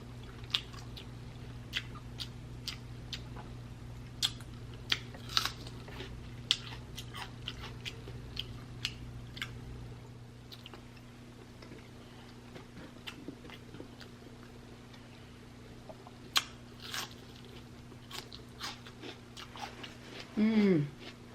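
Someone chewing a spicy garlic egg boil with shrimp-style seafood, soft wet smacking and crunchy bites repeating close by, quiet, with a brief murmur near the end.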